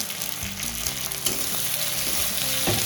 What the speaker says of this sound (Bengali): দিয়ে একটু নাড়াচাড়া করবো।